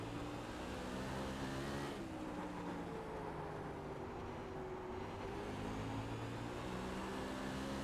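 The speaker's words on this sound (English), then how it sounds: "You can just hear the wheels chattering, though." A USAC sprint car in the iRacing sim racing game at Southern National holds a steady loud engine drone with a rough, chattering wheel rattle, and the pitch dips and rises as it runs the track.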